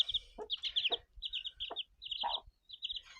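Young chicks chirp and cheep in high bursts alongside soft low clucks from a hen, close and continuous with brief pauses; guinea fowl keets are among them.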